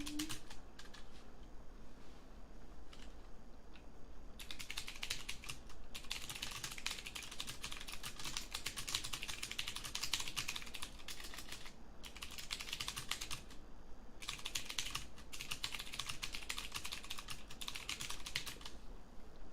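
Rapid, steady typing on a computer keyboard, close and crisp, comes in long bursts broken by brief pauses, with faint background birdsong.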